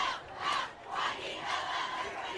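Football crowd at a Woodbridge vs Patriot high school game cheering and roaring in swelling waves, stirred up by cheerleaders, loud and continuous with no clear talk.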